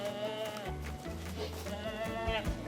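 Goat kids bleat repeatedly in a barn setting, loud and close, with several overlapping wavering cries filling the whole stretch.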